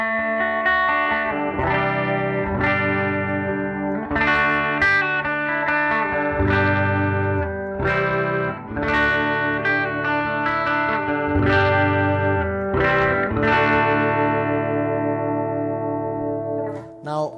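Electric guitar through effects pedals into the front of a 1968 Fender Princeton Reverb, strummed chords ringing with chorus and echo, played continuously at a strong, even level with rhythmic accents.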